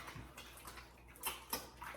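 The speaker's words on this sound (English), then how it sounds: "Wash hands." Hands are washed under a running tap in a kitchen while making pizza, a faint, steady trickle of water with a few soft splashes.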